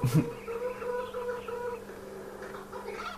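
Chicken clucking in Farming Simulator 2013 with a steady tonal hum beneath it, one brief louder squawk at the start, fairly soft and continuous.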